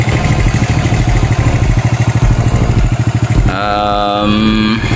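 A restored motorcycle with original Japanese-made parts idles close by with a loud, even, throbbing pulse; near the end a higher whining tone rises over the steady engine rumble.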